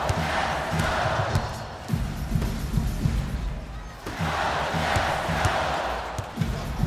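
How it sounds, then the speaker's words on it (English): A simulated arena crowd in the NBA Live 19 basketball game, Clippers against Nets, swells in two long roaring waves of booing and shouting, with sneaker and ball sounds underneath. "I'm hearing some boos from the crowd"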